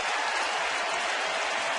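A crowd of 39,000 at a Dodgers home baseball game rising to its feet, a dense, steady wash of clapping and cheering filling the stadium from a distance, unbroken throughout.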